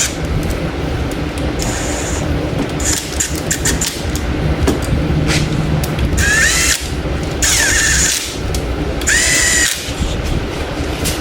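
A small Milwaukee power tool drives four bolts into a Musi 959 race engine in a shop, whirring in repeated loud bursts of a few seconds each, with brief pauses between the runs.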